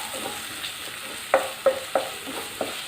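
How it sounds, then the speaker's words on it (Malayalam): Onions are stirred and sautéed in a pan for Kerala-style chicken mappas, with a soft background sizzle broken by several distinct scraping knocks of the spoon against the pan in a loose rhythm and no talk. "നന്നായിട്ടൊന്ന് ഇളക്കി കൊടുക്കാം."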